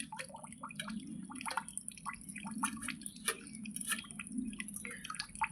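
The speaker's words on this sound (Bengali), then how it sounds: "ওই একটু বাসন, ওই একটু জলের ডাব্বাটাতে ধুয়ে নিলেন কাকিমা" Dishes are rinsed in a water container by hand, making faint, close splashes, drips and sloshing in an irregular rhythm.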